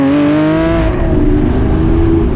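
A Lamborghini Aventador SVJ engine in race mode roars loudly and close, holding a steady high-revving tone that climbs gradually, with no voices over it.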